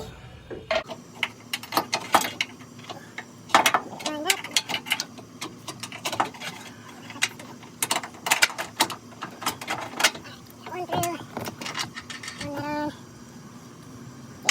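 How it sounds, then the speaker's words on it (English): A ratchet tightens the upper control arm bolts on a 2003 Ford Expedition's front suspension, giving close, repeated bursts of quick mechanical clicking with short pauses between strokes. "I'll go ahead and tighten these up"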